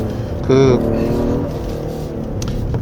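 A Genesis G80 3.5 turbo AWD on a winding mountain road blips its engine sharply on a downshift, a brief rising rev that settles into a steady hum under the cabin. Someone talks over it.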